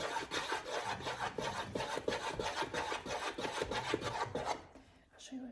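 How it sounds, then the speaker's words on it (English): Marshmallows melting in a pan for Rice Krispie bars are stirred in quick, rhythmic scraping strokes, close and steady, before the stirring stops near the end. "I'll maybe edit part of this out so you don't see me stirring for 5 minutes."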